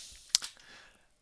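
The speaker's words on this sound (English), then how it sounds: "Thank you kindly for the claps." A short clapping sound effect on a magic livestream gives a couple of sharp, close claps in quick succession, then fades into near quiet.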